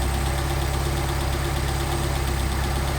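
A car engine with a Solex carburetor idles steadily while its adjustment screw is turned in and out, a close, constant low rumble with a faint rhythmic pulse.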